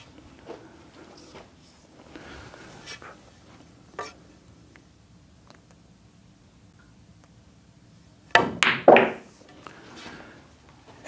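Billiard balls scattering on a straight pool break shot, a sudden close burst of sharp clacks and rolling collisions after several seconds of quiet room tone with faint taps.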